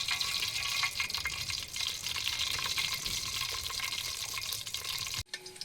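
Chillies hit hot oil for fish pulusu and set off a loud, steady hissing sizzle that runs unbroken for about five seconds, then cuts off abruptly.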